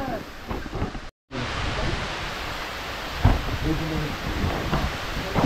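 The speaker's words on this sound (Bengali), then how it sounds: "কিন্তু এত বৃষ্টি যে উঠতে পারছি না" Heavy rain pours down steadily in Jhargram, a dense broad hiss with occasional heavier gusts and spatters, broken by one brief silent gap near the start.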